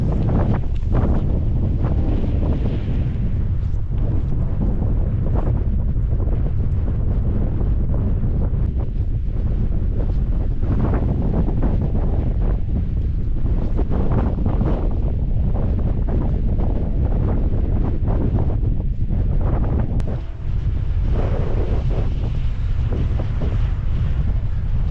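Strong wind batters the microphone on the summit of Clough Head in the Lake District, a loud, continuous rumbling roar with gusty surges and no voices.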